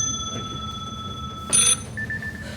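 A mobile phone rings with a returning call during a senior caucus meeting in Sacramento: a short, bright electronic ring burst, then a fainter repeating tone over steady low room hum.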